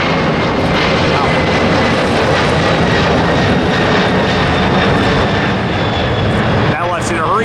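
Jet airliner takeoff roar at LAX, a loud sustained engine rumble with a whining tone riding on top, dominating throughout with a brief shift near the end.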